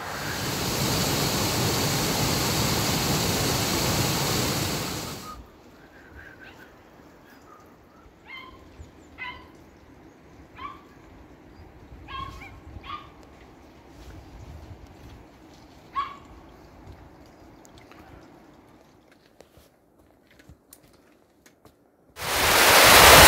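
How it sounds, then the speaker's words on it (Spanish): The Argualas waterfall with several drops makes a loud, steady rushing roar for about five seconds. Then comes a quiet stretch with faint scattered barks, and the roar cuts back in at the end. "aquí podéis ver la cascada de Argualas. Qué pedazo de cascada, tiene varios saltos guapísimos."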